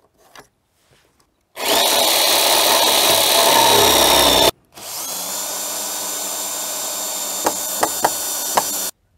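Wooden battens for concrete strip-foundation formwork are cut with a power saw in two loud, steady bursts, the second ending in a few sharp knocks, with brief quiet before and between.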